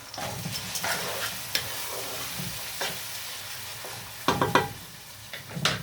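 Rice and lentils stirred in a pot of hot oil for koshari, with soft sizzling and scraping strokes, a few louder clattering stirs near the end.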